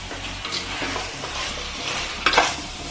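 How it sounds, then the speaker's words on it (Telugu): Cross-cut green chillies frying in a pan for Andhra-style dum biryani, a steady close sizzle with stirring scrapes and a sharper clatter near the end. "మిర్చి ఇలా నేను క్రాస్గా కట్ చేసుకున్నాను. మిర్చి వేసేస్తున్నాను"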